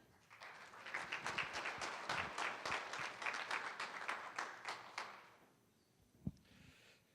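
A large audience applauds warmly to welcome Dr. John Coker at a UW-Oshkosh gathering, a dense steady clapping that lasts about five seconds before fading into room quiet, with one sharp tap near the end.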